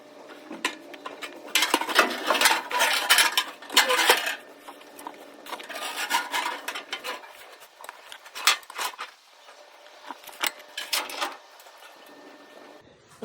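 Clicking ratchet straps cinched down to hold a gas tank up under an F250 pickup, bursts of sharp metallic ratcheting and clunks, close and intermittent with quieter gaps between pulls.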